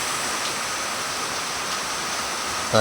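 Heavy rain in a forest, with clear water streaming down from above, heard as a loud, continuous rushing hiss, near and unbroken, with no talk.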